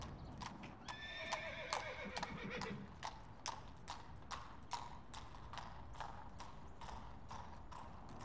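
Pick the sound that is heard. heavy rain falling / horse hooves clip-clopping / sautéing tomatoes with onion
horse hooves clip-clopping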